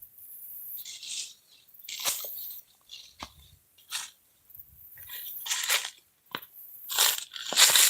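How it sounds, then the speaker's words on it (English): Footsteps crunch through dry leaves near a low waterside bank, loud close bursts of crackling repeating irregularly as someone walks back and forth, with quiet gaps between. "you guys are going to hear nothing but me crunching leaves, running back and forth"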